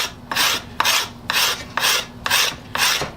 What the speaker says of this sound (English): I'll just take this little scraper and clean up the surface of the handle